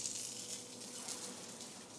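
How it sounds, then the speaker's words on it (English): A lightly oiled, sesame-crusted tuna steak sears in a hot pan, giving a soft, continuous sizzle and crackle that stays quiet and even. "the sear on it already sizzles a little more than the last one"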